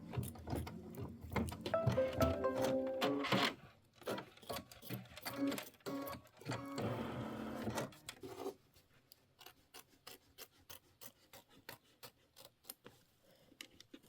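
A Kimberbell embroidery machine stitches a design in rapid mechanical bursts that pause and restart, with quick snips of trimming mixed in, fairly quiet and close, with no talking.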